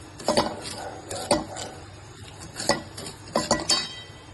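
Barnyard millet (varai/bhagar) grains are roasted dry in a hot wok. A spoon scrapes and stirs in repeated rhythmic strokes with light metallic clinks over a faint sizzle, close up, with no talk.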